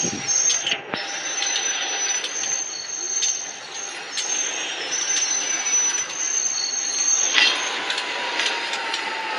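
A local passenger train in the Indonesian railway sim Incorails braking steadily, a continuous rumble of rolling wheels under high, drawn-out squeals from the brakes and rails that stays loud throughout, with scattered clicks.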